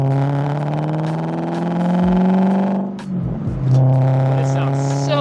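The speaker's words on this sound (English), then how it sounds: "This sounds like a European V8." V8-swapped Audi engine revving loudly while driving, a steady deep drone that swells, dips briefly around a shift, then climbs again, with a voice talking over it.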